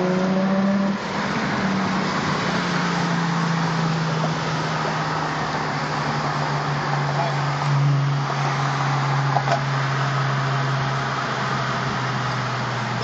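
A Corvette ZR1 engine rumbles steadily and loudly for the whole stretch, a deep sustained drone that holds close with a slight swell near the end and no talk over it.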